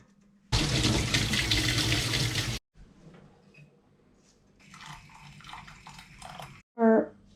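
Water with boiled cleavers poured out into a kitchen sink, a steady two-second gush that stops abruptly, then softer trickling and a later rinse of splashing, ending with a short clatter.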